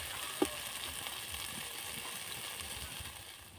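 Tomatoes fry in a pan with a soft, continuous sizzle and crackle, quiet and close, with one small clink near the start.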